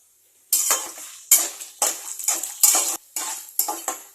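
Chana dal, urad dal, cumin, peanuts and dried red chillies dropped into hot oil with mustard seeds for amla pulihora, sizzling in short bursts as a metal spoon scrapes and stirs the pan, close up.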